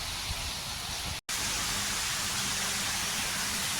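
Rain falls steadily over a village, making a dense, even hiss that fills the scene, broken only by a momentary dropout, with no talking.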